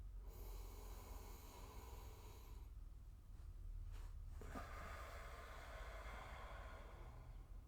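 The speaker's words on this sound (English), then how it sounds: "Take a deep breath." A slow, deep breath drawn in during a yoga stretch, a close, airy whoosh of inhalation followed by a soft exhale, quiet and alone against faint background hiss.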